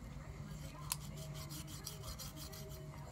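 Knife cutting through skin while cleaning a rabbit, a soft, rhythmic scraping and rasping repeated in quick strokes, close and quiet, with one sharper scrape near the start.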